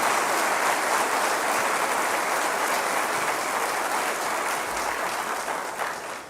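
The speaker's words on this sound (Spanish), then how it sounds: "Dale un aplauso al Señor." Church congregation applauding, a dense continuous wash of many hands clapping at steady volume that tapers off slightly at the end.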